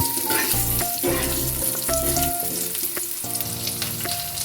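Diced potatoes frying in hot oil after a tempering with bay leaf, a steady close sizzle broken by scraping stirs of the spatula, with no voices.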